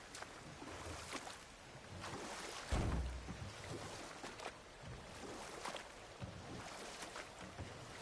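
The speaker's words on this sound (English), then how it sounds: "Waterfall. We're close." Steady roar of a waterfall in the video game God of War Ragnarok, a broad continuous rush with a brief louder surge partway through, no talk over it.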